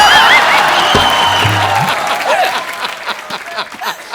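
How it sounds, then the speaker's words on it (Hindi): Loud studio audience applause on a Hindi comedy talk show for celebrity guests, a dense roar of clapping with music and voices over it, fading into scattered claps. "जॉन और सोनाक्षी के लिए जोरदार तालियां।"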